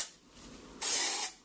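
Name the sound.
aerosol hair spray being sprayed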